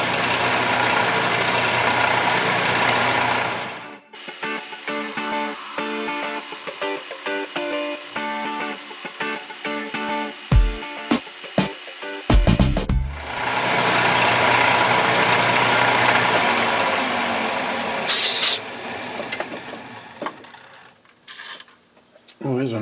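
A lathe runs a 9.5 mm drill with lubricant while turning a radius ball, giving a steady, loud mechanical hum and whine that pauses twice, with scattered knocks and clatters between the runs and a person speaking at times.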